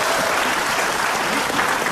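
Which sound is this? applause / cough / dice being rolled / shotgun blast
applause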